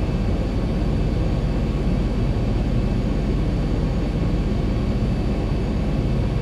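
Boeing 737 engines roar steadily on landing approach in the X-Plane 11 flight simulator, a loud, continuous broadband drone with no breaks.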